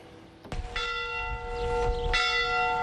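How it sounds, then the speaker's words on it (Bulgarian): A church bell in Biser, Bulgaria rings out with a sharp strike followed by long, shimmering overtones, a second strike joining as the tone sustains under faint background noise. "Рано сутринта камбаната на ремонтираната църква в Бисер извести, че днес е празник"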